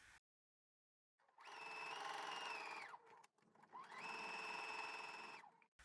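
Sewing machine running at a long 4.5–5 stitch length to sew gathering rows on a top: two sustained whirring runs of about two seconds each, close and steady, separated by a brief pause, with silence at the start.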